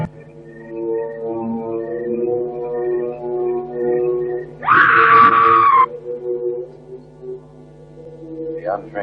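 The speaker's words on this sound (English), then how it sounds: "it is the scream of the white ghost" A ghost woman's horror-film scream rises sharply for about a second amid a sustained, droning eerie score, loud and close, set near an old bell tower in an ancient cemetery.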